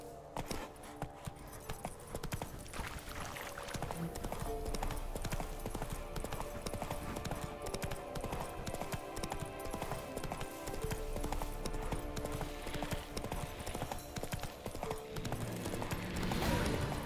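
Hooves of the horse Roach clip-clopping steadily in The Witcher 3, a continuous rhythmic gait at moderate distance over game music and ambience, with an occasional whinny.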